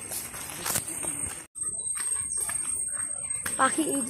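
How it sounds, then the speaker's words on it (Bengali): A bell insect calls near the Murti river at Chalsa with a thin, steady, high ringing tone that persists through the clip, while people talk over it along with brief rustles and footsteps. "ঘন্টি পোকা বলে এগুলোকে।"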